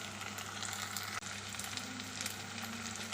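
Tomatoes going into oil with lightly fried onions, giving a continuous loud sizzle and crackle that stays even throughout, with one brief sharp click partway through.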